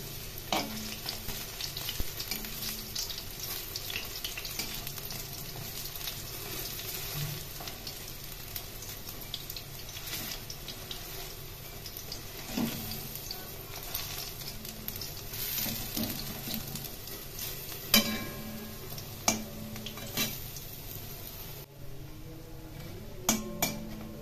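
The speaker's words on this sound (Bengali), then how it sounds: "এখন এগুলি ভালো করে লাল লাল করে ভেজে তুলে নেব।" Bok flower fritters with coriander leaves deep-fry in hot oil with a steady, close crackling sizzle. Occasional utensil clinks and scrapes sound against the pan as they are turned, with no talking.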